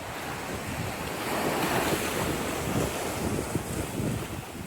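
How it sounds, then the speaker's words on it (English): Steady roar of surf breaking on the shore at Corito Bay Beach, with gusty wind buffeting the microphone throughout; no voices. "Love the sound of the waves."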